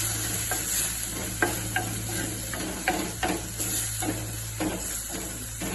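Masala stirred with ghee in a pan, a soft steady sizzle under a low hum, punctuated by regular spoon clinks and scrapes every half second or so.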